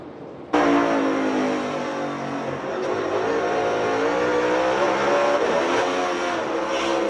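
A NASCAR Cup Series race car engine at full roar through a gear change, a loud sustained buzzing drone that kicks in abruptly and holds steady, with slight pitch shifts.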